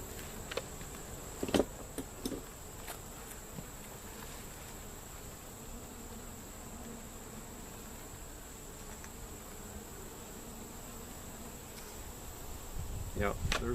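Honeybees in an open hive with drones and brood frames give a steady, close, continuous buzzing hum throughout, with a few brief louder passes near the microphone.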